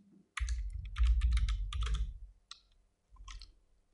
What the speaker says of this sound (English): hit F2 on the keyboard to rename and call it image